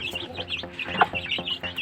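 Pet chickens clucking close by in a backyard coop, a busy cluster of short overlapping clucks and chirps with one sharper call midway.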